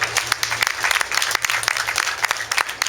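An audience breaks into brisk, steady applause at a literary reading event, a short burst of dense clapping heard close and clear with no voices over it.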